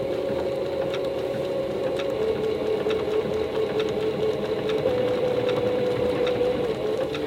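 A sewing machine free-motion quilting a mini spring quilt runs at a steady, continuous whirring hum with faint rhythmic needle ticks, close and even throughout.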